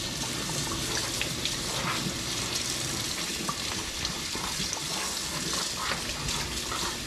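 Warm tap water runs steadily over a thin mini split heat pump part being rinsed by hand, a continuous close hiss with faint splashing throughout and no voices.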